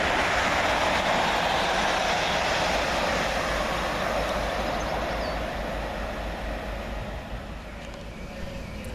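Two coupled Class 321 electric multiple units run through Goodmayes railway station with a loud, steady rumble and rush that eases slightly as they pass.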